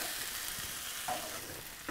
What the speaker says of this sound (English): add in our tomatoes and the lemon juice and zest, and give that all a really good stir